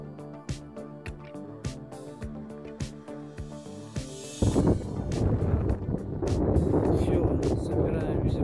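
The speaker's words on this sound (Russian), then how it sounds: "Ветер начался неимоверный." Strong wind roars across a mountain glacier, a loud broadband rush that bursts in midway after a tonal musical passage and keeps building to the end.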